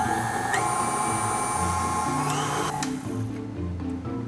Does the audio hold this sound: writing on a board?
no